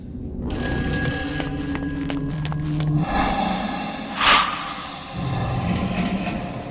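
An old-style telephone rings in the horror shooter video game Shadow of the Damned, a bright bell-like ring repeating over droning game ambience and music, with a sharper burst near the middle.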